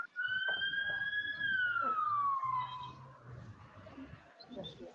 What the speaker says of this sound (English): the whole video is just sirens everywhere